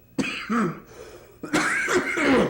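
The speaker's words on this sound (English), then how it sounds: "I can't quit coughing." A person coughs close by in two harsh bursts, each a quick series of rough hacking coughs and throat clearing.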